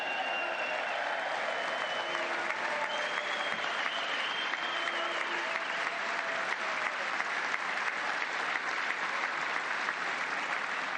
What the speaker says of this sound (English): The standing and clapping is insufferable.